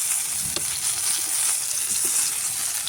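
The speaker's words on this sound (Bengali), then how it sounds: "অল্প অল্প তেল দিয়ে ভেজে নিচ্ছি।" Eggplant slices shallow-frying in a little oil, giving a steady close hiss and sizzle with faint crackles and light stirring throughout, no voices.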